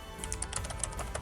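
Rapid, steady clicking of keys on a laptop keyboard, close and clear with no talking over it.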